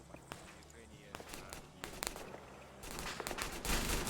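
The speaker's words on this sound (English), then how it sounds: "So you're hearing more shots." Gunfire in an Arma 3 battle: scattered sharp shots crack out at irregular intervals, some distant and some nearer, building into denser bursts toward the end over a low background din.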